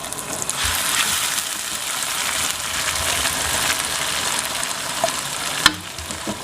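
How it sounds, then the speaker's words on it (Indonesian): Spice paste blended with oil fries in a pan with a dense, continuous sizzle and crackle, close and fairly loud, ending in a sharp clack of a utensil. "Tumis sampai berubah warna, sampai wangi."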